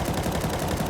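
An M4 rifle in Counter-Strike 2 fires a rapid, dense automatic burst, loud and close, filling the whole brief moment.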